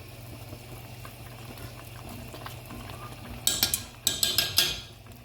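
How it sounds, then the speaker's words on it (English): A pot of callaloo greens bubbles and boils quietly and steadily, then a few sharp metallic clinks of a utensil against the pot ring out near the end. "You see it's really boiling away there"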